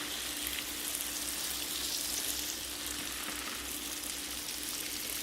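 A pump sprayer waters seed fodder with a soft, steady hiss of spray that runs faint and unbroken.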